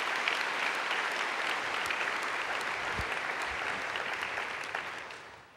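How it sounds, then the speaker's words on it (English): An audience claps steadily at a 2014 Cal Poly fall conference general session, with dense, sustained applause filling a large hall before it tapers off at the end. "Let's give them a round of applause,"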